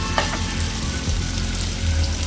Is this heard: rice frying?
yes